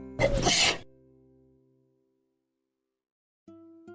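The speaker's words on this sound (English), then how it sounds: "It was then we heard a loud sneeze," One loud, close sneeze from a video game character, a burst of breathy noise lasting under a second, followed by silence and then a short musical tone.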